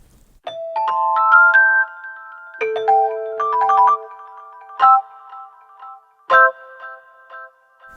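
Mellotron M4000D keyboard played through a concert hall reverb, bright bell-like notes struck in short phrases with ringing sustained tails, clear and alone with quiet gaps between.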